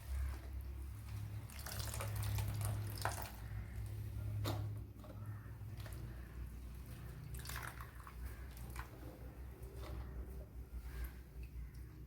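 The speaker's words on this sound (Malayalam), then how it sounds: "ഇതിലേക്ക് വെള്ളം ഒഴിച്ചു കൊടുക്കുക" Water streams into a cooking vessel for a fish and banana-flower stir-fry: a continuous faint splashing trickle with intermittent drips and clinks, close by and with no talking.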